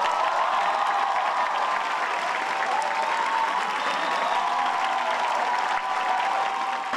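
An audience at a musical theatre event breaks into sustained, even applause, a full and continuous clapping roar with faint cheering mixed in throughout.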